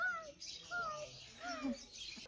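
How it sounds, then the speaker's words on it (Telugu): Lovebirds at a zoo give a run of short, bright chirps and tweets, several overlapping calls close by over a murky outdoor background, with no talk over them. "love birds,"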